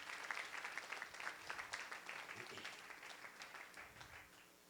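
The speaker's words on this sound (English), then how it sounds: "an amazing organization which deserves a round of applause" A studio audience at a charity organization pitch competition gives a round of applause, a dense burst of clapping that stays strong and then tapers off toward the end.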